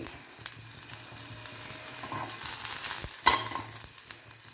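Ginger and garlic fry in a pan with a bright, steady sizzle, broken by a few quick scrapes and clinks as they are stirred.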